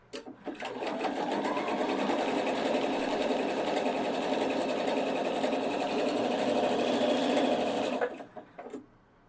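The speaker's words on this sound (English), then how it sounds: "This is a 3-step zigzag. It's breaking up those long jumps into smaller stitches." A Pfaff 710/720 sewing machine runs a 3-step zigzag stitch, a steady fast close mechanical whirr and clatter lasting about seven seconds before stopping, with a few soft clicks after.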